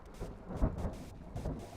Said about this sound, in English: Because of this really cool kind of downpour, like constant rain